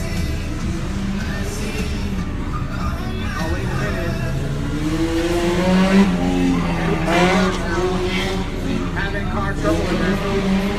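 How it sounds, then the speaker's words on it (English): A race car, a gray Corolla, slides sideways into a stop box with tires squealing and engine revving for several seconds, while a commentator talks over a loud crowd. "Stopping in the box sideways"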